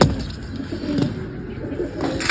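Low, soft cooing of pigeons repeating close by, with a faint rustle of wings and steady background noise.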